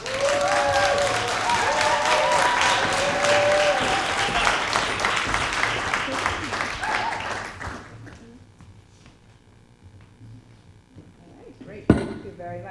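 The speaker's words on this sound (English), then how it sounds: "Please welcome Cheryl Lee with a warm round of applause." Warm applause from a seminar audience at a career symposium greeting a speaker, full and sustained for several seconds before thinning out and fading to near quiet, followed by a single sharp knock.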